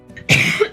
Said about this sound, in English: I apologize for the coughing, you guys.